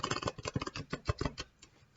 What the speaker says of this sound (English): It literally just shuffles so easily.